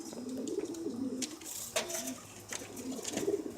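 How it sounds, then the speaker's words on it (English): Pigeons, including young hens and a recessive red bird, give soft low coos in short repeated phrases, fairly faint and close, with no one speaking. "That's a nice pigeon."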